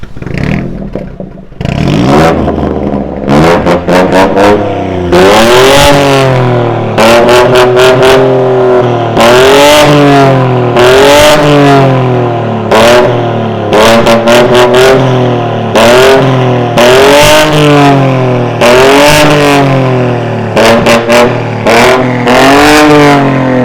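A BMW F44 218 with an active M carbon exhaust system revs repeatedly, loud and close, each throttle blip rising and falling in a steady rhythm with crackling bursts between.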